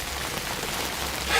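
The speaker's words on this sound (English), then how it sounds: "it sounds like it could be raining outside now" Rain falling outside a winter camping shelter in snow, a steady soft hiss of drops on a surface that swells slightly louder near the end, with no voices.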